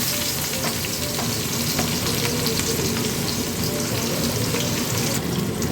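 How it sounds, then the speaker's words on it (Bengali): Chopped onions sizzle in hot oil over whole spices and cumin for a Bengali garlic chicken curry, a steady close frying hiss with faint stirring scrapes and no talk. "ফোড়নটা মোটামুটি ভাজা হয়ে গেছে, এবার আমি কুচিয়ে রাখা পেঁয়াজটা দিয়ে দিচ্ছি"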